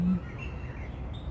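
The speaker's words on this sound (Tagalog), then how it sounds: "kinakausap ko itong ibon na to" A small yellow and green bird calls in a park, giving faint, thin chirps over low background rumble, with a brief low thump at the start.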